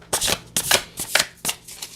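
Tarot cards being shuffled in four quick, close bursts of riffling, each a bright papery flutter with short pauses between, heard alone without talk.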